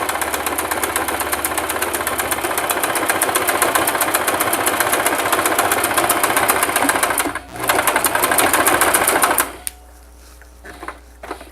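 Singer 3232 sewing machine stitching a seam in fabric, a loud, fast, steady mechanical whirring hum with a brief dip mid-run, then stopping, leaving faint handling noises.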